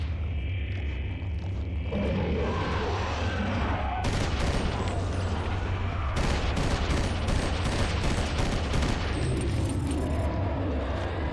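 Gunfire in Eternal Darkness: Sanity's Requiem, a GameCube horror game: dense bursts of rapid shots that start after a low droning stretch and keep on loud and fast, with heavy booming under them.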